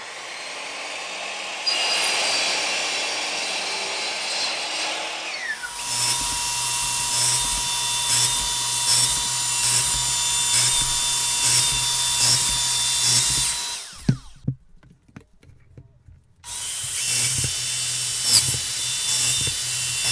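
A power saw cuts walnut boards in two long passes: a loud whining bite through the wood, a brief clatter and a silent pause, then the saw starts up again, close by.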